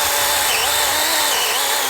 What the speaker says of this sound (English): I hear like chainsaws running and branches falling all over